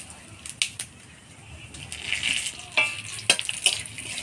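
Dried red chilies, whole cumin seeds and bay leaves sizzle in hot oil, a steady crackling hiss broken by sharp pops and the clink of a spoon stirring the pan, close and fairly quiet.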